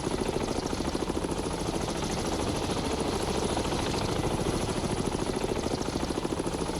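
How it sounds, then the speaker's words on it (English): Helicopters returning to a ship in the naval video game Cold Waters produce a steady, fast rotor chop over an engine drone, constant and loud throughout with no speech. "So we got those 4 helicopters back."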